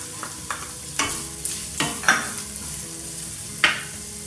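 Chopped carrot tipped into a pan of frying masala for a sprouts salad, a run of sharp stirring clatters and scrapes over a low sizzle, close and fairly loud with no voices.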